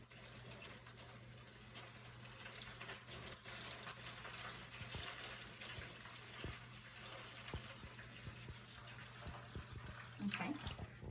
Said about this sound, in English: so pouring the water in